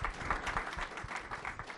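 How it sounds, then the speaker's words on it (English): An audience applauds a business panel at an evening event, a soft, fairly distant patter of many hands clapping that stays steady and light throughout. "Let's give our panel a round of applause."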